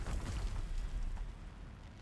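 A forest set ablaze in Horizon Zero Dawn: a dense, rumbling roar of fire catching and spreading, heavy low-end whoosh that is loud at first and eases slightly as it keeps burning, with no one talking.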